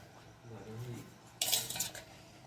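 A metal spoon stirs cow's milk in a pot while making milk pitha: a soft low rumble, then a sharp burst of clinking and scraping against the pot, close and fairly quiet, with no speech.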